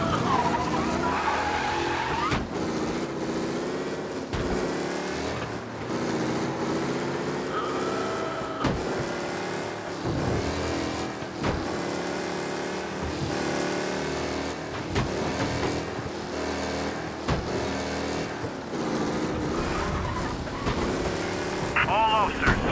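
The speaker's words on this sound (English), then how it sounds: "be alert for a race car out on the road tonight." A race car drives and skids in the video game Mafia Definitive Edition, engine roaring and revving with repeated long tire squeals and screeches, continuous and loud, with talking over parts of it.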